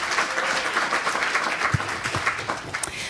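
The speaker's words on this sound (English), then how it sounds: "Let's all clap for me." Sustained audience applause fills the space, dense overlapping clapping at steady loudness with a few sharper individual claps standing out, no speech over it.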